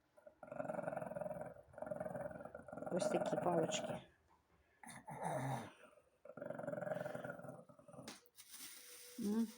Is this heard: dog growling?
yes